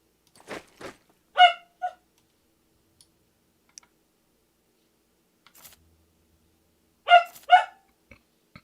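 A dog barks in two pairs of sharp, fairly close barks separated by several seconds of near silence, with a few faint clicks in between, over background from a wartime strategy game session.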